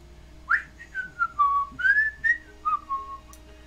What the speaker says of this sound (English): we can whistle